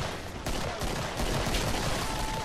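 Automated turrets firing in a video game, a dense continuous rattle of rapid gunfire that stays loud and steady throughout.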